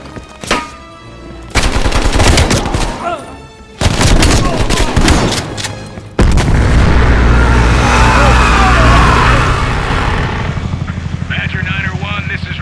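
Intense gunfire in a Call of Duty Black Ops Cold War mission: rapid automatic bursts and sharp shots, then a sustained roar of heavy fire with a helicopter-like drone beneath, loud and continuous.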